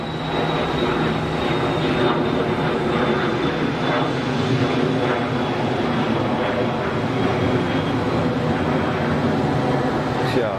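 A plane taking off at Geneva Airport gives a steady, loud broadband engine roar with a faint high whine, sustained throughout the takeoff roll and climb.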